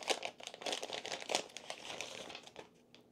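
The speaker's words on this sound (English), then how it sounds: "Let's go ahead and rip this open." Packaging for DJI Goggles 3 being ripped open by hand, a busy run of close crinkling and tearing that thins out toward the end.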